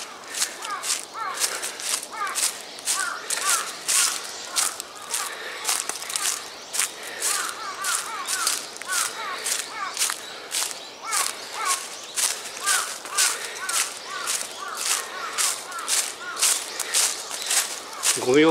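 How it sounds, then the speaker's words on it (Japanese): Crows cawing loudly and repeatedly at the top of a large ancient keyhole-shaped burial mound in Japan, harsh calls coming in a steady series near and far, with footsteps crunching on the ground beneath them. "カラスがすごいですよ、カラスが。"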